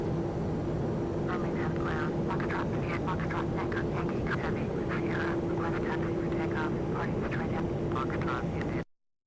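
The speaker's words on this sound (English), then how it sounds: "So what we're going to do, we are taxiing to departure." Airbus A380 taxiing to departure in Flight Simulator X, a steady airliner engine drone with a whining hum running throughout, while a person talks over it.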